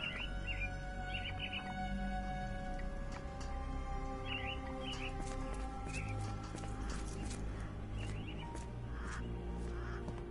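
Caged mynah birds in the game Sherlock Holmes The Awakened give short, scattered chirps and tweets over a dense, steady ambient background, moderately close and not loud.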